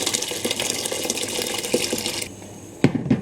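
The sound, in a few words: hot water filling a tall cooking pan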